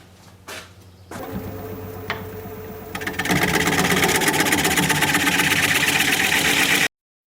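A wood lathe spins a cherry burl platter as a round cutter engages, starting with a low motor hum and a few knocks, then rising into a loud, steady buzzing cut that stops abruptly.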